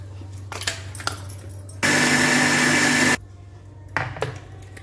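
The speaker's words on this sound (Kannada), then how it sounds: "ನುಣ್ಣಗೆ ರುಬ್ಕೊಳ್ಳೋಣ." A mixer grinder grinds masala paste for horse gram curry: a loud, steady motor whir lasting about a second and a half, which stops abruptly. Quiet kitchen clatter comes before and after it.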